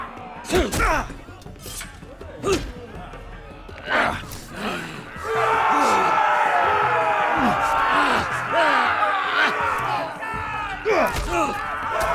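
Arena crowd at a fighting pit in a Game of Thrones episode: after a few shouted lines, a dense, loud roar of cheering and yelling swells up and holds for several seconds, with voices calling out over it.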